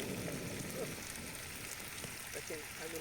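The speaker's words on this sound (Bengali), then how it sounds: "এখন এখন পেঁয়াজ মরিচ ভাজা হচ্ছে," Onion and chili fry in a pan with a soft, steady sizzle like light rain, low and fairly faint, while a voice speaks over it.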